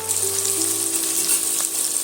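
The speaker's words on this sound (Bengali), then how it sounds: "আবারও এটা কয়েক সেকেন্ডের জন্য ভাজা ভাজা করে নেব" Raw cumin seeds fry in a hot pan, giving a close, continuous crackling sizzle that stays even and bright for a couple of seconds, with no voices.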